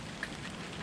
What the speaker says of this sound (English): Now that it's pouring rain